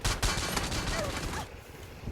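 Rapid gunfire from an AUG assault rifle in a multiplayer shooter video game, dense bursts of shots through the first second and a half over game noise and talk, then fading to quieter background.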